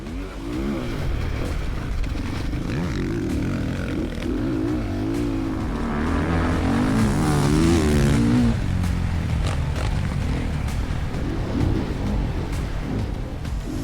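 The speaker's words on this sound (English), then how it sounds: "I think we need to see the bike go fast as well." A 2027 Honda CRF450R motocross bike ridden on a dirt track, its engine droning steadily and rising in pitch as the rider revs through gears, moderately close and continuous throughout with no talking.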